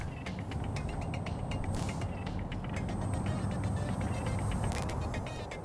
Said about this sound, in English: Set the wheel in place and feel it lock.